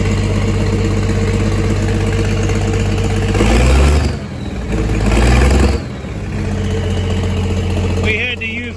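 Tractor engine idling and revving after being coaxed to life with liquid starting fluid, a loud rumbling drone that rises and dips in surges, with people talking over it.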